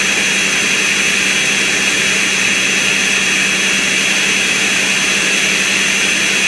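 A Ninja blender grinding almonds into almond butter, a loud continuous high-pitched whir that holds steady throughout, close up and with no talk.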